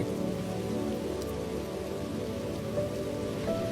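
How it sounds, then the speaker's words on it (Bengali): Steady rain patters on a house roof, a close, even hiss of drops lasting throughout, with soft tonal music underneath. "ঘরের চালে বৃষ্টি পড়ে"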